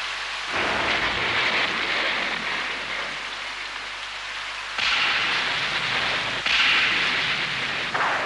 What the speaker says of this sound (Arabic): الرعد.